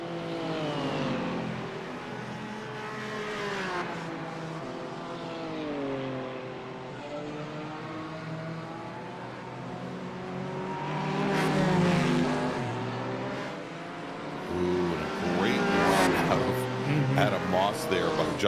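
Race car engine at Mosport in a sportscar series event, droning and shifting pitch through tight corners, steady and fairly close beneath continuous commentary.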